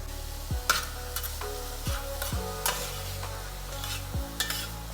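Beetroot with ground coconut and mustard mix sautéing in a pan, a spatula stirring and scraping in repeated close strokes over a soft, steady frying sizzle.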